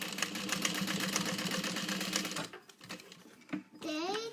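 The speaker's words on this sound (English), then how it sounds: "And then we're gonna top stitch these." A sewing machine top stitches a fabric pouch at an 1/8 inch seam allowance, running in a fast, steady mechanical rattle for about two seconds before stopping. Quiet handling follows, then a voice speaks at the end.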